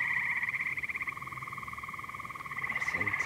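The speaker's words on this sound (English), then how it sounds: "I think it's frogs and toads." A chorus of frogs and toads croaks in a rapid, pulsing trill, steady and moderately close, with a brief extra call near the end.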